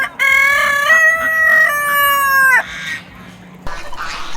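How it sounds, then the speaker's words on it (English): A rooster crows loudly and close by in one long cock-a-doodle-doo at about 7 a.m. at a campsite in Massachusetts, followed by quieter birds and clucking, with several roosters present. "we woke up around 7 a.m. to a few roosters"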